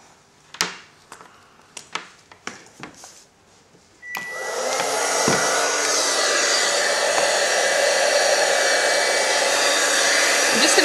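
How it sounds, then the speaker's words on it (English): A heat gun switched on after a few light clicks and handling knocks, then blowing as a loud, steady broadband roar, drying embossing craft ink on bereavement footprint cards. "I'm just going to wave the heat gun across the ink just to dry that ink out"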